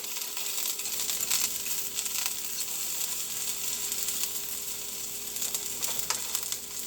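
Spinach and mushrooms for a kidney-friendly omelet burrito cook in a skillet, giving a steady, soft, continuous sizzle with faint crackles throughout, heard alone.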